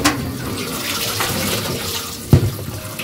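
Cut potatoes being rinsed in water in a home kitchen, a steady wash of running or sloshing water with a brief louder splash near the end.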